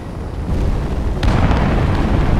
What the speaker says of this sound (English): That thing just shot a cannon.